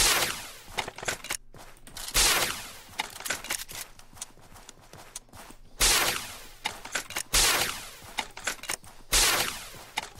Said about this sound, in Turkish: Roketleri sallıyorum seri.